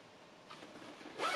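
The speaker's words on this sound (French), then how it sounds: "une fermeture éclair" The zipper on a garment is pulled in one short, quiet rasping run that builds to a brighter zip at the end, heard alone in a quiet room.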